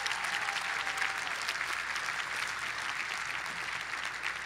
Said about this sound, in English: Give the teachers a round of applause.